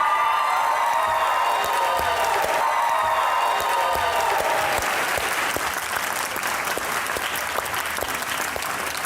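A television studio audience breaks into loud, sustained applause with some cheering as the guests arrive, the dense clapping continuing steadily throughout.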